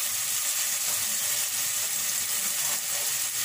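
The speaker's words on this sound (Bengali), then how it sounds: "আর এই চুলা দিয়ে কিন্তু আমার ডালটাও হচ্ছে" Dal frying in a pan on a stove, giving a steady, continuous sizzle with no breaks and a soft bubbling underneath, close and even in loudness throughout.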